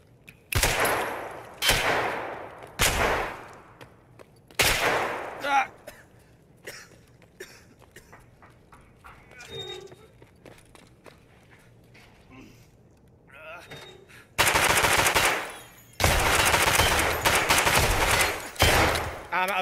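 Gunfight in the video game Escape from Tarkov: loud bursts of rapid gunfire come in clusters, with quieter single shots between and heavy sustained volleys near the end, alongside a player talking and coughing.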